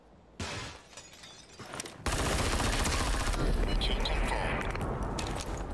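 Gunfire in the shooter game Super People, scattered shots at first, then a dense sustained burst of rapid automatic fire that stays loud to the end.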